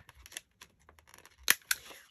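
Scissors snip through paper while trimming vintage-style journaling cards, with a couple of sharp, close cuts after a stretch of quiet handling noise.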